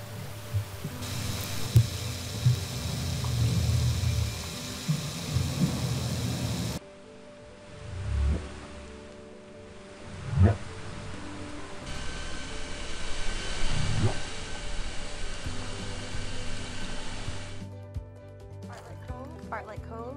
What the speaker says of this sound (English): that's the sound of a male harbor seal roaring because it's the mating season.